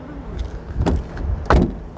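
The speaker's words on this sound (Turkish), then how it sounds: "Kapı açılışları bayağı güzel." The door of a 2010 Renault Clio 1.5 dCi Grandtour station wagon opening and shutting, with two sharp mechanical clicks and clunks over low background rumble.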